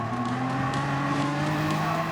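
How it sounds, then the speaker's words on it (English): A race car engine rumbles steadily with tonal whine and faint tire squeal, a sustained loud drone without talk, heard at an indoor event at Sydney's Luna Park. "The rumble of the engine. The squeal of burning rubber."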